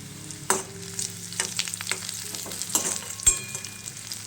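Finely chopped ginger frying in a pan over a high flame for veg noodles, a crisp sizzle broken by sharp scraping stirs and a few metallic clinks, no voices.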